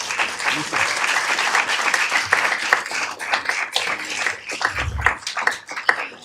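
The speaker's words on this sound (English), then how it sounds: "A big round of applause to the parents as well" An audience at a city council meeting applauds students' parents, with a scattered round of individual hand claps from a modest crowd in a hall, uneven and gradually thinning, with a few louder claps near the end.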